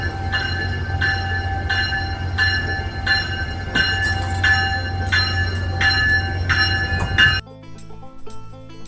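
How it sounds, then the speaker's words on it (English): An electric locomotive moves up past a switch to couple onto a passenger train bound for Philadelphia, its steady rumble accompanied by a regularly repeating warning bell dinging about once per second until it suddenly cuts off. "the electric engine moved up past the switch to back up to attach to the train."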